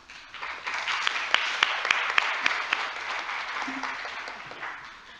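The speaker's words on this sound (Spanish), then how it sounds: "Un aplauso, por favor, para ella." Audience applause greets a guest doctor at a university event in Tlaxcala, Mexico: dense, steady clapping from a crowd filling the whole span with a few sharper individual claps standing out, ending without speech.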